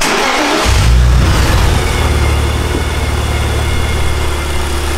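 A supercharged car engine starts with a loud low burst, then runs on with a steady, heavy drone close by, with no one talking over it.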